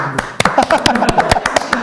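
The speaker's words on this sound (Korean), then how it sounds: "그럼 후보님 박수" On a talk show, people clap for a candidate, crisp separate claps in an uneven burst while a voice keeps speaking over them.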